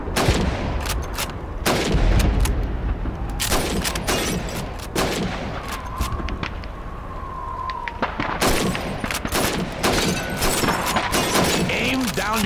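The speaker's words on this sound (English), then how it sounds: "Shoot those bottles and plates." Rifle shots at a Call of Duty 2 shooting range, irregular loud cracks striking bottles and plates with shattering impacts, heard over a man's spoken instructions.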